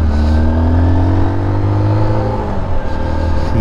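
A Honda XR150L motorcycle engine accelerates steadily, a loud, close, low rumbling drone with its pitch slowly climbing, heard alone without voices.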